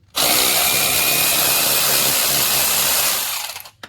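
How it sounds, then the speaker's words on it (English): A power wrench spins out bolts during a Can-Am Gen2 brake job, one loud steady whirring burst of about three seconds that stops abruptly and stands alone. "And then let the wrench do its work."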